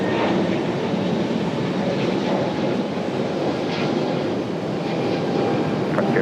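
A Frontier airliner departing from an RDU runway, heard as a loud, steady broadband engine roar that holds unbroken from start to finish.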